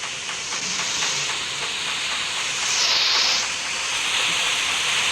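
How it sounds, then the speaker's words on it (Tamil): A waterfall in the Roblox game Expedition Antarctica pours as a steady, loud, broadband hiss of rushing water, continuous throughout with only slight swells and no voices. "அருவிடா."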